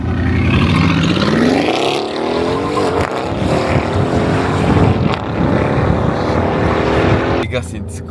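A Lamborghini Urus SUV engine roars loud and close on a street in Dubai, rising in pitch through a long rev before settling into a throbbing idle, with brief voices near the end.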